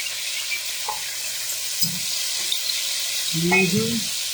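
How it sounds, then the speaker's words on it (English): Thick-sliced meat sears in a hot pan with a steady, close sizzle, plus a few brief clinks and a short thud as it is handled. "So I'm gonna sear it on the sides right here."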